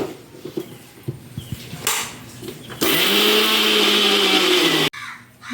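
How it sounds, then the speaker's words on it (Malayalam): An electric mixer grinder jar whirs loudly as it grinds chili powder and turmeric for a chicken mandhi masala. A continuous, close motor drone follows some handling clatter, then cuts off abruptly. "മുളക് പൊടി, മഞ്ഞൾപ്പൊടിയൊക്കെ അങ്ങനെയൊക്കെ കൂടെ ഒന്ന് ജാറിലൊന്ന് അടിച്ചെടുക്കുന്നുണ്ട്"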